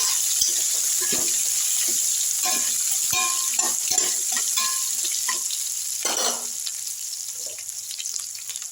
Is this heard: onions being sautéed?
yes